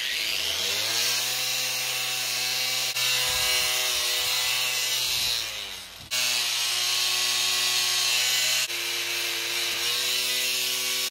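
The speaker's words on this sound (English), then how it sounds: "I'm gonna use a less powerful angle grinder on a lowish speed." An angle grinder with a wire wheel at low speed brushes hand-forged steel, a steady whining buzz with harmonic tones that dips and restarts a few times, close and alone.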